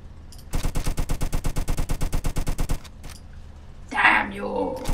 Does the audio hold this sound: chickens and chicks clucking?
no